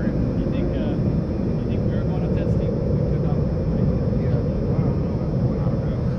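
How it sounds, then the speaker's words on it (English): A commercial jet airliner flying overhead gives a steady, loud, broadband engine roar that holds without letting up, with people talking nearby. "I have never ever seen a commercial jet do that before."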